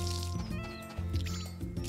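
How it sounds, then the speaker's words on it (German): A watering can pours over crops in the farming game Story of Seasons: A Wonderful Life, with short splashy liquid sounds over the game's background music. "So, nochmal gießen."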